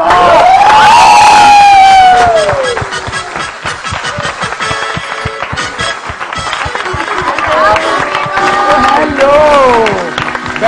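A television morning-show studio audience cheers and applauds loudly for a guest's entrance, with crowd shouts and clapping filling the whole stretch alongside music and a few voices.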